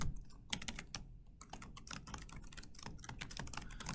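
Quick, irregular keystrokes clatter on a computer keyboard while someone writes code, close and alone, with short pauses between bursts of tapping.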